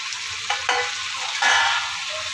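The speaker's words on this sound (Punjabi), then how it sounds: "ਤੇ ਹੌਲੀ ਹੌਲੀ ਕਰਕੇ ਆਪਾਂ ਮਿਕਸ ਕਰਾਂਗੇ" Golden fried soya chaap is stirred and mixed in a hot pan, a steady sizzle of frying broken by a few scraping stir strokes. It sounds close, with no voices.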